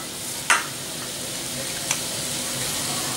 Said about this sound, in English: mix this all well